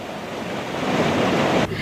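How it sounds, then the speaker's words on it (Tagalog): Floodwater of the Marikina River rushes in a loud, continuous roar, like heavy surf with wind buffeting the microphone, and no one speaks. "ang agos ng tubig sa Marikina River"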